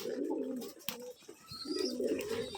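Flying pigeons at an old-generation pigeon farm in Rajshahi coo in soft, low, repeated throaty calls, fairly close and steady, with a brief sharper noise partway through and no talking.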